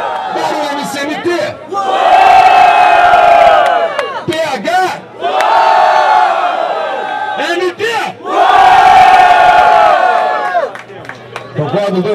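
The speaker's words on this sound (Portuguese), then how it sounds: "muito barulho pra quem curtiu as rimas do meu mano PH" Loud crowd at a Brazilian freestyle rap battle semifinal erupts in three big waves of cheering and shouting, with an MC hyping between the bursts.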